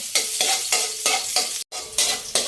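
Chopped onion sizzles in hot oil in a pan for a Filipino pork-and-vegetable bagoong dish, stirred in regular scraping strokes about every half second, with a brief gap before the sizzling resumes close and loud.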